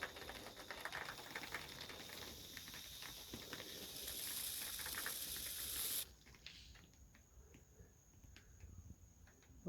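An aerosol can hisses in a sustained spray at a bald-faced hornet nest for about six seconds, then cuts off abruptly, leaving quiet handling noises.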